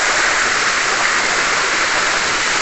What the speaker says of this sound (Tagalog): Ganda ng waterfalls.